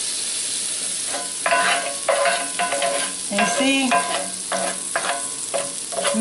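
Melted butter sizzles in a cast iron skillet as it starts to brown, ahead of the cornbread batter. It makes a steady close hiss with stirring scrapes over it, and a voice speaks briefly.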